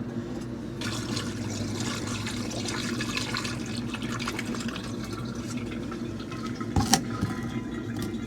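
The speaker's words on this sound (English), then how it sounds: "Sounds like that tank's draining." Coolant draining from the tank of a cabover Ford truck through an opened petcock, a steady trickling, splashing flow of liquid heard close, with a brief louder splash near the end.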